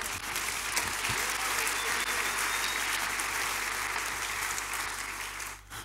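A church congregation applauding the Lord, loud sustained clapping from a large crowd filling the room, tapering off abruptly at the very end.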